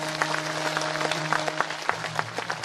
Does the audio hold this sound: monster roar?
no